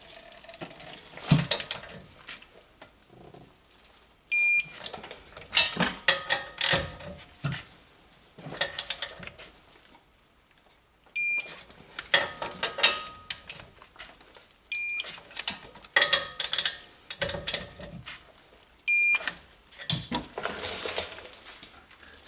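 Caliper bracket bolts being torqued down on the rear brakes of a 2018 Honda Accord, with repeated ratcheting and clicking bursts, short metallic beeps and clanks of tools in a close, quiet garage.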